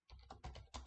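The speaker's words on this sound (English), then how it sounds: "So I'm gonna go type SSIS" A computer keyboard clacks close up as a few quick keystrokes are typed into a search box, three soft bursts in under a second.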